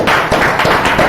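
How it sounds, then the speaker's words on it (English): A classroom of students claps in brief, scattered applause during a Python basics lesson, with quick, uneven hand claps close by and no talking. "Let's clap for it, please."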